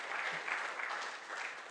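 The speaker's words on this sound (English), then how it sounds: "I was expecting some applause" An audience at a workshop on gender-based violence and sexual harassment gives brief, moderately faint applause, a soft, even patter of clapping hands with no voices over it.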